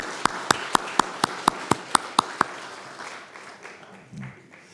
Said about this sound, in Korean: 우리 다시 한번 하나님께 감사와 영광의 박수를 크게 올려드리겠습니다.